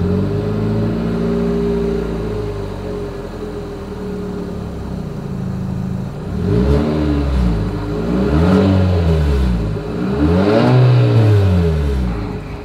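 The exhaust of a 2023 Infiniti QX55 idles loudly and close, then the engine is revved three times, each blip rising and falling, with no talk.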